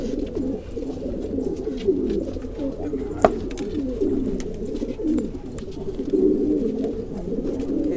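Pigeons coo in soft, overlapping rolling calls, close by and continuous, with faint background clatter and no clear talk; one is a ten-year-old female.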